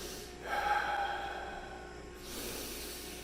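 A single deep breath drawn in and let out as part of focused breathing practice before a rifle trigger pull, a close, soft airy rush that fades, followed by a second quieter exhale.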